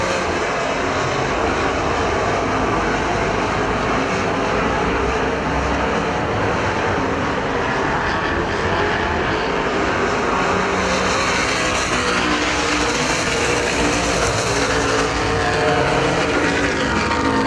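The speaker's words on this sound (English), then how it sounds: "Now Whitson goes to the inside of Wooldridge. Takes away the 2nd place spot" Super stock race cars roar continuously around the dirt oval at Perris Auto Speedway during a main event, a dense, loud engine drone with no talk.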